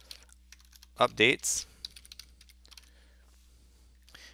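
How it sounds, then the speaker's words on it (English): Fingers tap on a computer keyboard in scattered soft clicks, with a brief spoken word partway through and a faint steady hum underneath. "I'm going to type in here under the title, I'm going to type in sign up for free"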